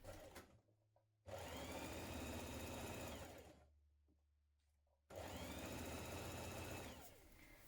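Sewing machine stitching the central back seam of a dress skirt with a one-centimetre seam allowance, two loud, close, sustained motor-driven runs of a few seconds each, separated by near-silent pauses.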